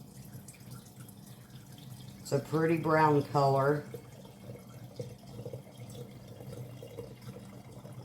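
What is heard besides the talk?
pouring mullein tincture into a jar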